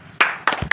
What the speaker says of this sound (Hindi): ताली बजा ताली बजा ताली बजा